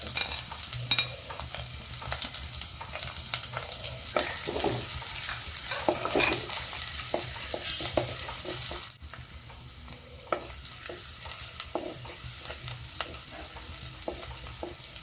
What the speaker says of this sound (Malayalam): എണ്ണ ചൂടായി വരുമ്പോൾ ഇതിലേക്ക് ചെറിയ ഉള്ളി വെളുത്തുള്ളി ഇഞ്ചി ഇതെല്ലാം ഇട്ടൊന്ന് വഴറ്റിയെടുക്കാം